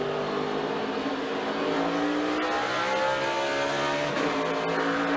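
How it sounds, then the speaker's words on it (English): A NASCAR race car engine roars at high revs nearby as it spins its tires, its pitch rising and shifting continuously with harsh, droning mechanical noise. "I think the 22 did spin his tires around"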